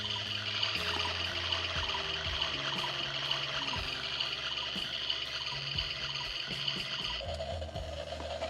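Water sounds from a children's toy, a steady running, trickling flow like a tap, with some low rumbling and a change in tone near the end.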